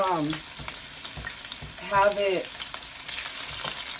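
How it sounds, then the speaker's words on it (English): Onions sauté in hot oil with a soft crackling sizzle, briefly joined by faint tonal sounds, heard close and fairly quiet. "It's going to saute fast."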